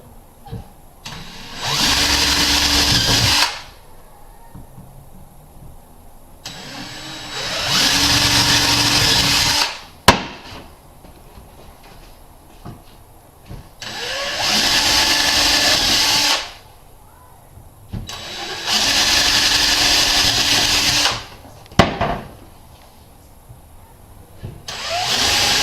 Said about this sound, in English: doing a pilot hole, and just drilling through.